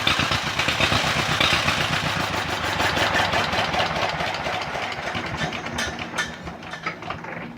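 Old John Deere tractor engine runs close up after a spray of brake cleaner, a loud, rapid, uneven popping chug with a mechanical rattle that fades slightly toward the end.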